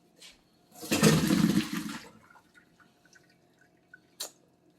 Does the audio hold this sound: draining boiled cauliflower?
yes